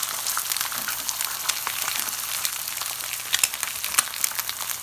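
Eggs fry in a pan, a steady bright crackle and sizzle with small spitting pops, close and continuous throughout.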